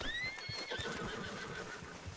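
A horse in the Red Dead video game lets out a high, wavering whinny, with soft clip-clopping hooves underneath, heard fairly faint and at a moderate distance.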